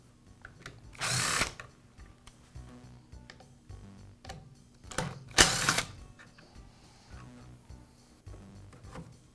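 Two short, loud bursts from a cordless drill or driver as screws come out of the motor cover on a DeWALT miter saw, with quieter ticking and handling clicks between them.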